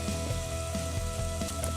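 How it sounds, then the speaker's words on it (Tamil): Ginger garlic paste sautés in a pan for mutton curry, giving a steady sizzle with soft irregular pops and scrapes, close and continuous. "இஞ்சி பூண்டு விழுதில் இருக்கிற அந்த பச்சை மணம் மாறுற வரைக்கும் நல்லா கை எடுக்காமல் வதக்கி"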